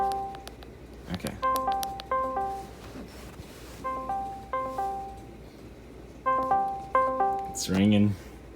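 A call ringing tone repeats in short melodic bursts over a low background hum, with a brief voice-like sound near the end.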